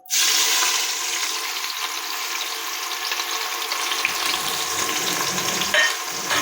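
Sliced medium onions hit hot oil for mutton chaap masala with a sudden loud hiss that settles into a steady, close, continuous sizzle with faint crackles throughout.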